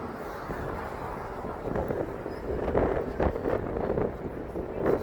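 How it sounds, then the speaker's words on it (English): Wind blows across a microphone outdoors on a city street, a rough rumbling buffet that rises and falls in gusts. No clear speech comes through over it. "It's getting chilly here, this wind."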